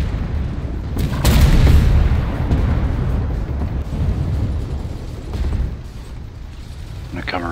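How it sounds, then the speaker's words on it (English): Hundreds of bullets batter an armored tank in the Armored Warfare combat game, a dense, loud barrage of gunfire impacts and heavy booms, with sharper bursts near the start and again midway. "Just getting riddled with hundreds of bullets."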